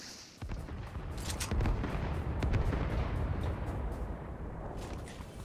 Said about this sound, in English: Is that you throwing the grenades